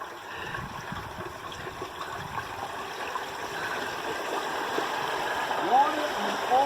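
A turkey being lowered into a pot of hot frying oil outdoors, a steady rushing, gurgling bubbling that builds slightly, with people talking over it.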